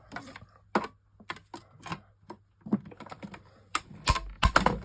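Tape on a camera front panel being cut out by hand, with a run of short, close, irregular clicks and snips and a few sharper louder cuts near the end.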